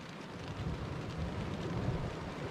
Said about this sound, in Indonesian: hujan yang hujannya bertubi-tubi